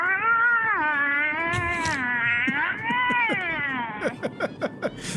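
A person imitates a mountain lion mating call with a long, wavering, cat-like yowl that rises and falls. It breaks into short, choppy cries near the end, loud and close, with no other voices.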